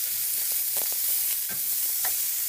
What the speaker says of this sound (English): We're just wanting to saute our onions and make those